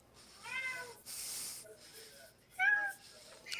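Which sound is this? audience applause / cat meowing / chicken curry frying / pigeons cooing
cat meowing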